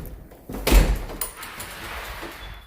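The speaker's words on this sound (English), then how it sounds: "Now this is a self-locking door, just so you understand." A self-locking door on a rural property of about three acres is unlocked with a key and opened, giving a solid clunk of the latch and a door sweep amid faint background noise, with no talk.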